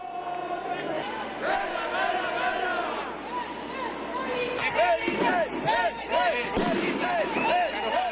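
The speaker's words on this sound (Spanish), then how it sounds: "hicieron sonar sus bocinas, encendieron fuegos artificiales y agitaron en protesta todo lo que tenían" Taxi drivers' protest in central Madrid against Uber, with a crowd, repeated car horn blasts and bangs of fireworks over a constant loud street din.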